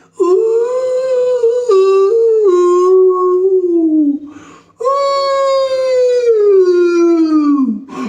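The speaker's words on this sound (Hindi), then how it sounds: "कुत्ते की रोने की आवाज सुनाई दी।" A dog howls in two long, loud, wavering cries, each sliding downward in pitch, with a brief pause between them.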